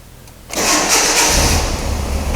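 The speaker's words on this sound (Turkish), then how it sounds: "Gördüğünüz gibi marş bayağı güçlü yapıyor." A freshly rebuilt car engine cranks and catches on its first start-up, settling into a loud, steady idle that fills the rest of the moment without any talk.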